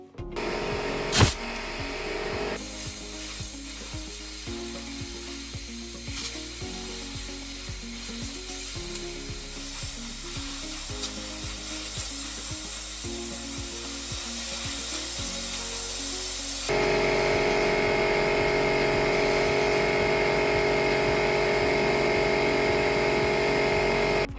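A steady, loud hiss of compressed air rushing through a nozzle, used to blow out hollow eggs, continuous throughout and growing brighter and stronger partway through, with mechanical background noise underneath.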